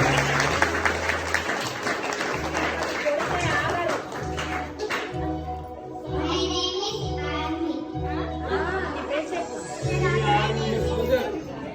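Government school children at a Children's Day programme in Rathanpur Kandly clap loudly in steady, rhythmic bursts, with voices and chatter running over the applause throughout.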